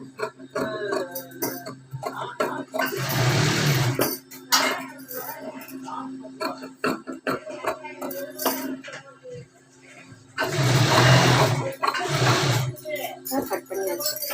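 Scissors snip through blouse fabric during garment cutting, with two longer bursts of close crisp cutting separated by quieter handling and small clinks of the blades.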